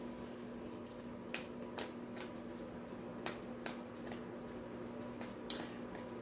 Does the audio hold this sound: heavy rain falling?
no